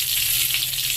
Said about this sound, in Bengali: ফোড়নটা ভালো করে ভেজে নিতে হবে।